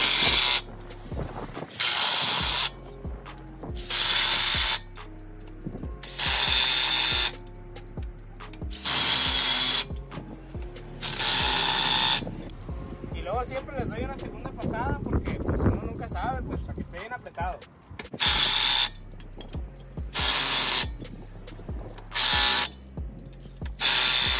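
Wheel nuts being tightened in a star pattern with a power tool and socket on a pickup, loud repeated mechanical bursts of a few seconds each, separated by quieter gaps with a voice talking.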